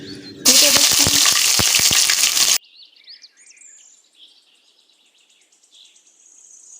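Ginger garlic paste hits hot oil while cooking mutton korma, setting off a loud, close burst of hissing sizzle for about two seconds before it cuts away to faint crickets and birds chirping outdoors.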